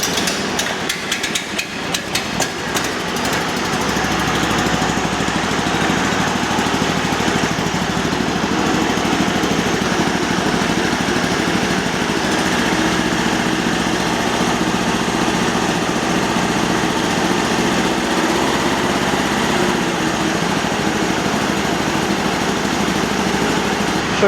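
A rare Japanese dump cart's small engine idles steadily while warming up, a continuous close mechanical chug with a rapid knocking rhythm running unbroken for the whole stretch, with no talk over it.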